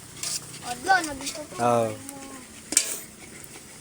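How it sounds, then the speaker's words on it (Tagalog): Sticky rice being scraped and stirred in a cooking pot while making sinukmani, a few short metallic scrapes and knocks close by, mixed with people talking. "nagsasayad ng sa kaldero"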